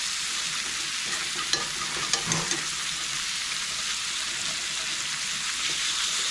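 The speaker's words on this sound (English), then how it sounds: "I'm using the fork to kind of scrape the bottom of the pan, get some of those crusties up." Potatoes and bell peppers fry in a pan with a steady broadband sizzle, while a fork scrapes the pan bottom in a few short clinks and scrapes midway through; no talking.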